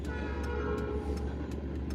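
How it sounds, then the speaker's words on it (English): A train rolls through the town of Ironton, a steady low rumble with a faint horn-like tone and clanking wheel sounds heard from some distance, with no talking. "Yep, there's a train for Ironton."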